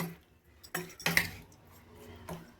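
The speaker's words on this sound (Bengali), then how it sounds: "এবার আমি একটা চামচ দিয়ে মেখে নেব নুন আর হলুদটা চিংড়ি মাছের মধ্যে" A metal spoon clinks against a bowl while mixing salt and turmeric into large prawns, a few distinct scraping knocks bunched near the middle with quieter gaps, no voices.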